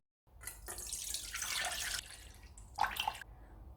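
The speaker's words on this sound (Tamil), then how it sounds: "1 கப் மாவுக்கு 3 டம்ளர் அளவு தேங்காய்ப்பால் சேர்க்குறேன்" Coconut milk poured into a vessel while making a black kavuni rice sweet, a steady splashing liquid stream that swells and fades, with a brief clink near the end and no talking.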